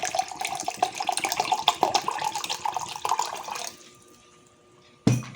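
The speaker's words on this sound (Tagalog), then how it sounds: "Ngayon, let's add the cold water." Cold water pours steadily into a container of Kamiyachee juice mix, a close, splashy gurgling stream for several seconds that tapers to a trickle. It stops briefly, then a sharp clank follows at the end.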